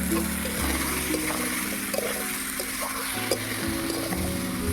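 Potato and pointed gourd tossed into hot spiced oil in a pan, giving a steady moderate sizzle with soft stirring and scraping noises, alone with no talk.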